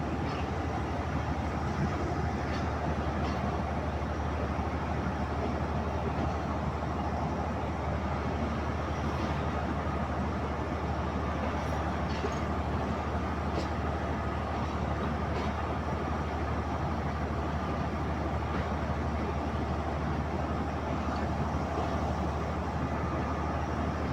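A Pakistan Railways locomotive, a ZCU30 numbered 6304, assigned to the Awam Express, drones continuously and loudly nearby, a steady unbroken engine rumble with a faint hiss and no pauses.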